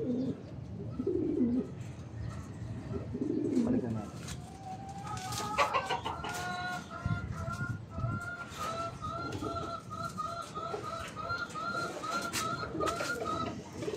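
Racing pigeons of the ice colour type coo in a loft, soft repeated tonal calls that come steadily from the middle of the clip onward over a low background murmur.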